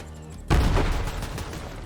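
Sticky grenades explode in the video game Borderlands 3. A sudden loud blast is followed by a rumbling, crackling tail of several overlapping bursts that slowly fades.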